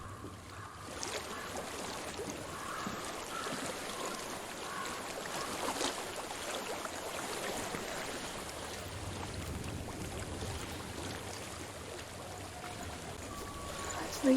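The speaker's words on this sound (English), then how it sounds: "I hear water. Go to it." Steady flowing water in Hellblade: Senua's Sacrifice, a continuous broad wash of stream noise holding at an even level throughout, with faint game ambience and no clear speech over it.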